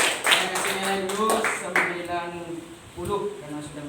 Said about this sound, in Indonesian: Oke, tepuk tangannya buat Lady.